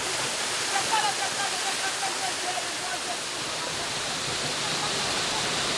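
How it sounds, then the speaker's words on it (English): A waterfall cascades steadily into a pool during an outdoor cleansing ritual, a dense, even roar of rushing water filling the scene from start to finish with no talking. "The noise of the cascading water blocks out the outside world."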